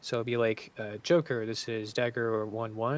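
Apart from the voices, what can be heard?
No everyday noises stand out.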